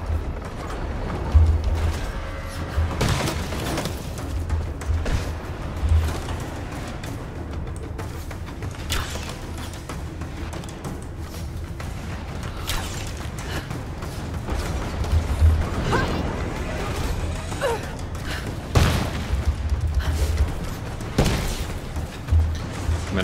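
Gunfire and explosions from the video game Rise of the Tomb Raider, with Greek soldiers shooting in the Kitezh area: repeated dull booms and sharp cracks over a rumbling, clattering battle backdrop, heard loud and continuous.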